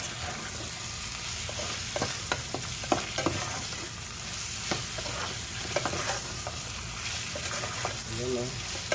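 Kangkong frying in a pan for adobong kangkong, with a steady loud sizzle throughout and intermittent clacks and scrapes of a utensil stirring the greens.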